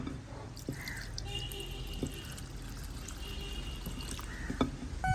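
Coconut milk poured slowly into Sri Lankan appam batter, giving a soft, steady liquid trickle with gentle drips and a few light clinks of a utensil close by.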